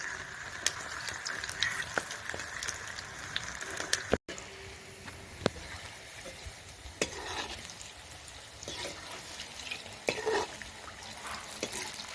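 Sweet potato and mung dal pitha frying in a pan gives a continuous crackling sizzle, punctuated by sharp clicks and scrapes of stirring, with no talking.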